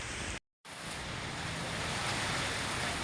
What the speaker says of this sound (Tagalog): Malakas na po yung hangin na yun, basta po ganyan kumakalampag na, no?